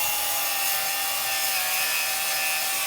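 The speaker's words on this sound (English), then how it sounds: "you're getting the barnacle off" A power grinder scrapes barnacles off a boat hull during a haul-out, a loud, constant abrasive whir with a steady tonal whine running unbroken throughout.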